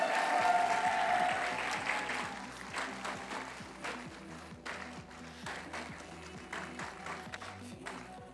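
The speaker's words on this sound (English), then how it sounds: "please give a round of applause to every single cosplayer that was here this weekend" Sustained audience applause and clapping for cosplayers at the closing ceremony of a convention, loud at first and then easing to a steady, dense patter of many hands over the full length.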